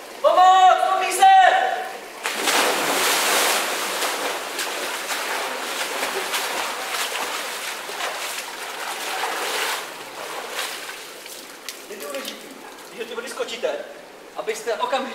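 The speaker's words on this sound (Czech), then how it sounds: "nečekali, až ta vlna, kterou vy vytvoříte, vám přejde přes hlavu, tak jako pěkně přejíždí mě teďkom" Water splashing and churning over a swimmer during lifesaving training in a pool, a broad rushing wash lasting several seconds while someone speaks.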